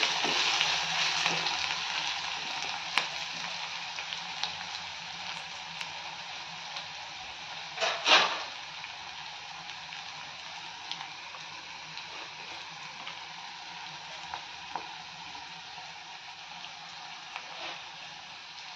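Coriander stems and chopped ginger-garlic fry in hot oil in a pan for restaurant-style paneer chilli, giving a steady close sizzle with a brief louder stir partway through.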